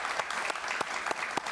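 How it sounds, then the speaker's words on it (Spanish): Small studio audience applauding guests on a Spanish-language talk show, a sparse patter of claps with several distinct sharp hits close by. "Un aplauso para ellos, por favor."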